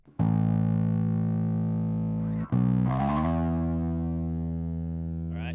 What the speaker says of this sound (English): So here's the distortion on.